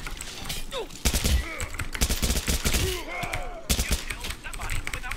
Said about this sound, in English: I'm pulling my handgun out.